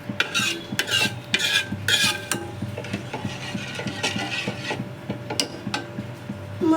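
A spoon stirs sugar and milk boiling in a pan with ghee-roasted dry fruits such as raisins, cashews and almonds, giving steady scraping and clinking strokes over a low bubbling simmer, close and fairly loud, with no talking.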